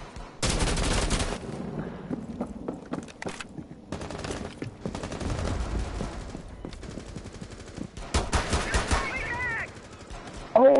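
Gunfire in Rainbow Six Siege cracks out in several separate bursts, loud sharp volleys with quieter gaps, some rapid automatic strings and single shots, while a voice speaks at times.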